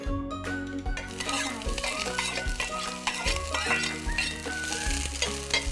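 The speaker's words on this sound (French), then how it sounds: "Voilà, mes oignons peuvent frire." Chopped onions frying in hot oil in a pan for a Mauritian curry, a steady dense sizzle with stirring scrapes and a low backing tone throughout, close and fairly loud, no one talking.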